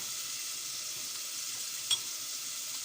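Minced meat, tomato paste and butter sizzle steadily in a pan, a continuous bright frying hiss with one brief utensil clink partway through and no voices.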